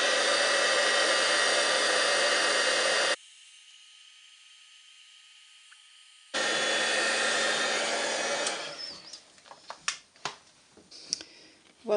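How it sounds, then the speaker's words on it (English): A heat gun melts copper embossing powder on a handmade card, its steady broadband blowing roar running loud for about three seconds, pausing, then resuming before fading into scattered clicks and handling noises. "And then I'll bring in my heat gun and make a noise."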